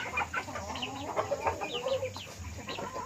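Chickens cluck and chirp in a short, busy burst of calls, a hen recovered from a snoring respiratory illness among them, fairly close with a low hum underneath.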